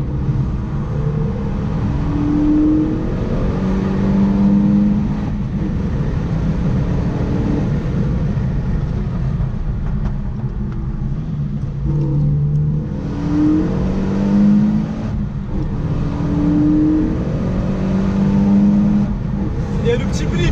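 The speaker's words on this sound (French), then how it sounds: "Wow, écoutez comment ça pétarade." Renault Megane 3 RS Trophy fitted with an Akrapovic exhaust revs repeatedly on a circuit, rising and falling engine notes with pops between shifts, loud and close throughout, voices audible at times.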